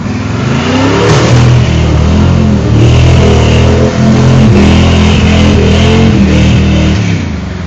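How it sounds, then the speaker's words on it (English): A Chevy truck on 44-inch Bogger mud tires revs hard through a mud hole, its loud engine roaring and surging in waves close by, with no talking. "Okay, folks, comes another Chevy."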